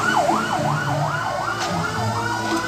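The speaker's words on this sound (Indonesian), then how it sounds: "ini ternyata ada mobil pemadam kebakaran warna merah" A red toy fire engine's siren wails loud and close, repeating rising-and-falling sweeps steadily throughout with no pauses.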